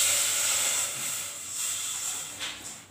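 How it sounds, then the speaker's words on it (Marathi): A tumbler of water poured into a hot pan while cooking shengole sets off a loud, sharp steam hiss that slowly fades and flutters over a few seconds. "आपण आता हे पाणी टाकूया"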